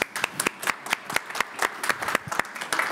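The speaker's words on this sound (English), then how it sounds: "You deserve a round of applause." A small workshop audience gives brief applause: scattered, fairly quiet claps at an uneven rhythm over about three seconds.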